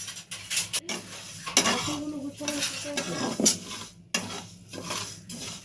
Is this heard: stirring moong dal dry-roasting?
yes